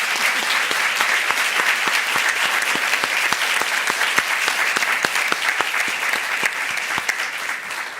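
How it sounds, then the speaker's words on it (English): A crowd applauds the candidates at the end of a candidate forum, producing a continuous, even wash of clapping with sharp individual claps standing out and no speech over it. "Can you please give the candidates a round of applause?"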